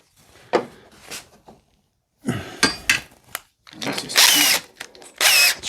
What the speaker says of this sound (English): I'll go ahead and put a screw in here just to hold it.